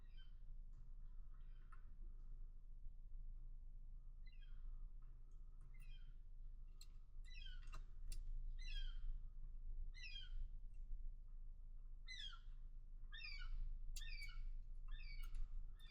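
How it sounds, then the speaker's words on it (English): A large seagull calls repeatedly outside, its short, bright cries coming in steady bursts every second or so. The calls sound faint and distant over a low background hum, with nobody speaking. "there's a massive seagull outside. You can hear him barking away."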